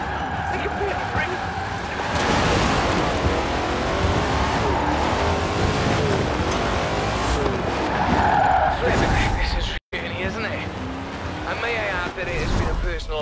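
Tires squeal continuously as a car drifts in Forza Horizon 4, the screech running loud and steady under engine roar throughout, broken by a brief cut near the end, with a voice talking over it.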